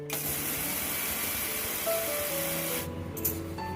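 A mixer grinder grinding horse gram runs with a loud, steady whirring roar, then cuts off near the end leaving a few faint clinks.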